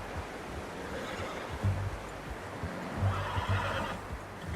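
A horse whinnies twice in the video game Red Dead Redemption 2, short nearby neighs over a steady ambient wash with soft hoof clops and no talking.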